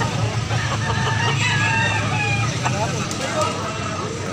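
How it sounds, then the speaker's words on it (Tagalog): A rooster crows in the background under close, ongoing conversation, with some faint outdoor noise around the voices. "Ang manok."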